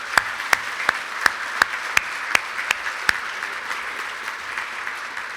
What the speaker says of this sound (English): could we get a round of applause for our DIA workforce?